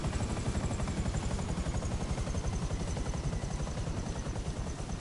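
A helicopter in the video game GTA 5 whirs steadily with a continuous rotor chop and engine drone at even loudness throughout, no voices.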